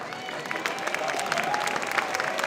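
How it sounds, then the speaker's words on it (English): Dinner guests at an author's table event at the 2009 Tucson Festival of Books break into dense, lively applause, with a few faint voices in the mix. "Yes, let's applaud her."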